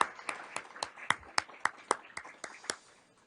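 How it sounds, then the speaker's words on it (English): An audience at a Princeton research awards event claps in a loose, moderately near burst of about a dozen distinct hand claps, fairly sparse and uneven rather than a full roar. "Can we give them a round of applause and just stand up and be acknowledged?"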